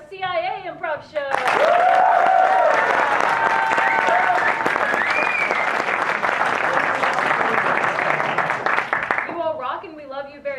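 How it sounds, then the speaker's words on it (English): Loud audience applause at a live improv comedy show swells up suddenly, mixed with cheers and whoops, holds for about eight seconds, then tails off as a voice resumes talking. "And now give me a big old round of applause if you've been to a CIA improv show."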